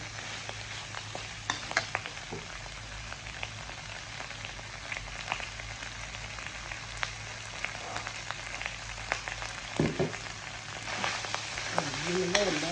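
Catfish for a Thai jungle curry with white galangal is stirred in a hot pot, a steady sizzle with scraping clinks from the utensil and a brief spoken word over it.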